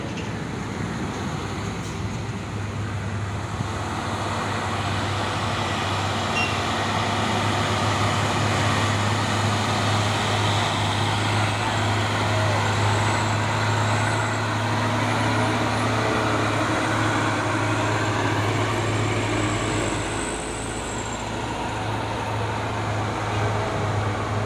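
A 6x4 truck rolls along in busy road traffic, a continuous loud engine drone with a steady low hum and general roadway noise throughout, no talk.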